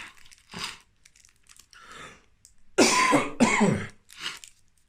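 A few harsh coughs and throat-clearing bursts, close and abrupt, mixed with crinkling wrapper noises.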